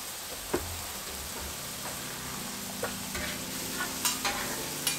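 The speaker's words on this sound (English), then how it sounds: "We're gonna go ahead and hit the scallops with some oil." Scallops sizzle in oil on a hibachi grill with a steady frying hiss, punctuated by several light spatula taps and scrapes on the metal surface.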